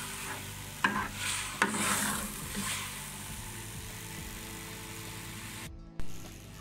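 Moong dal roasts in a pan as it is stirred, with a few sharp scraping clicks from the spoon at the start over a gentle sizzle that fades to a quieter hiss, ending in a short knock.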